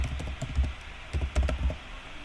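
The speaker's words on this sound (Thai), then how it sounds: "แล้วเราก็พิมพ์พาสเวิร์ดเข้าไป" Password being typed on a computer keyboard: a few quick clusters of crisp key taps, close and fairly loud, with short pauses between bursts and no voice over them.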